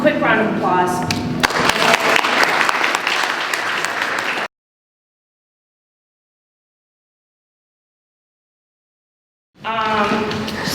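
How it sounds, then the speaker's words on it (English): Audience clapping at a citizens' forum on water after the speakers, a short burst mixed with voices and thumps, then a long stretch of silence before talking resumes. "So, quick round of applause."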